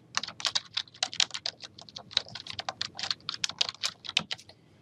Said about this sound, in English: Then you want to type in your username